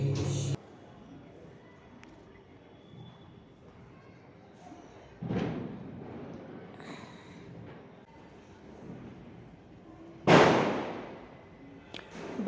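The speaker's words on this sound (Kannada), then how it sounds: "ಬ್ಯಾಕ್ಗ್ರೌಂಡು ಪಟಾಕಿ ಸೌಂಡ್ ಕೇಳಿಸ್ತಾ ಇದೆ ತುಂಬಾ" Diwali firecrackers bursting in the background, two distinct sharp bangs several seconds apart, moderately distant, with faint rumbling pops in between over a quiet room.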